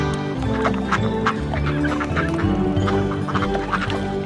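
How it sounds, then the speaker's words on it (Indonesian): Ducks quacking and clucking in a lively, continuous chorus through a children's nursery rhyme, with musical tones underneath the bird calls and no spoken words. "Ibunya berkata, kwek kwek kwek."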